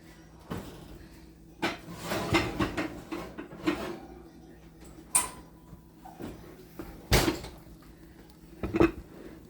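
An oven door creaks open and clunks, followed by scattered knocks and clatters as a baking dish of Creole smoked sausage bake is taken out, fairly quiet and intermittent.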